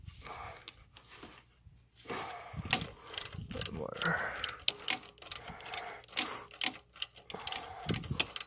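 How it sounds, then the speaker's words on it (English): A ratchet clicks in rapid irregular bursts while tightening a bolt during a serpentine belt replacement on a 2002 Mazda Protege 5, close up, with pauses and some background noise. "Tight this bolt, make sure this one is so tight."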